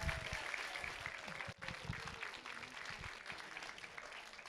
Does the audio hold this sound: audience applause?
yes